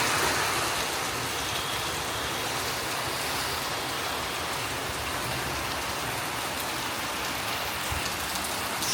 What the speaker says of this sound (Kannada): ನೋಡಿ ಇಲ್ಲಿ ಕ್ಲಿಯರಾಗಿ ಗೊತ್ತಾಗ್ತಿದೆ ಯಾವ ರೇಂಜಿಗೆ ಮಳೆ ಬರ್ತಾ ಇದೆ ಅಂತ.